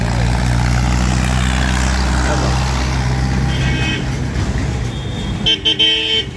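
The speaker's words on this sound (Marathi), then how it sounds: "अशा प्रकारे जर ट्रॅफिक जाम होत असेल तर एकटे हवालदार इनुसनी काय करावं" Street traffic jam at a busy crossroads bus stop near a police station, with a steady rumble of idling cars and trucks and several short car horn toots near the end, loud and close.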